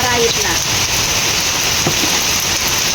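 Steady heavy rain pours down on a quiet village in a dense, constant hiss, with a faint voice or two briefly audible underneath.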